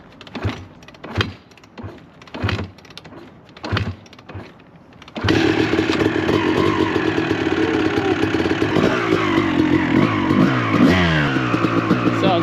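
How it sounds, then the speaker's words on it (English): Honda CR250 two-stroke dirt bike after a rebuild, several loud rhythmic kick-start attempts before the engine catches at about five seconds and runs continuously with a loud, raspy, buzzing idle and small throttle blips. "We're on the bike. Let's see if we can get it to start."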